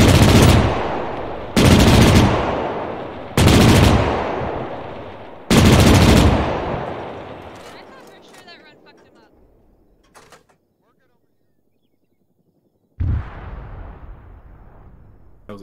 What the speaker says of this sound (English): That was an explosion behind us.